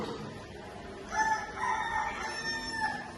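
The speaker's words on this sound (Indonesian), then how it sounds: "Ini adalah suara ayam jantan." A rooster crows once, a loud, drawn-out call that rises and trails off, heard nearby with no talking.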